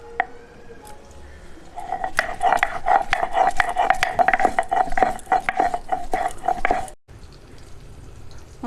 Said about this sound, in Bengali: এবার আদাটা বেটে নেব।